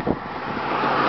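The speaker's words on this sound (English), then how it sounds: "Sorry about the traffic, but it's kind of a highway." Highway traffic rushes past near a bridge above a river overlooking Savannah, Georgia, a brief broad roar of passing vehicles with some wind buffeting on the microphone.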